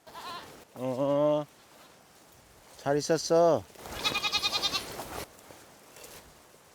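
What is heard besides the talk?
goats bleating on pasture, Uido island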